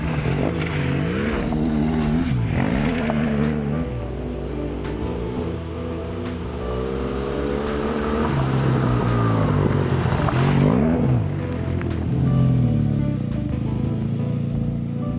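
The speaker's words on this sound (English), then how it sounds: "it was then back on the mighty GS to enjoy more twists and turns" A BMW R1200 GS motorcycle ridden along twisting roads, its engine note rising and falling steadily through gear changes and bends, with wind noise and no one speaking.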